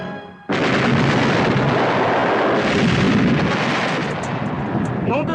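Cannon fire erupts as a huge, sustained roaring blast that fills the scene, loud and close, rumbling on for several seconds after the sudden onset, with a voice faintly beneath it.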